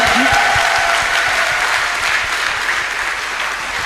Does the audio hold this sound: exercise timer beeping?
no